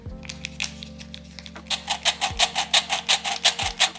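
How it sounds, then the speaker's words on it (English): Flour, cocoa and baking powder for a Yule log being mixed with a spatula, soft rubbing strokes that turn into a quick, regular series of scraping swishes close by, with no talk. "Now we're gonna mix all of that with a spatula."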